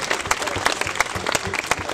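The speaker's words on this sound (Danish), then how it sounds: "Skal vi give Hjalte en kæmpe klapsalve?" Audience applause for a nine-year-old's drum solo at a talent show casting in Hadsund, a steady close clapping from a crowd lasting the full two seconds.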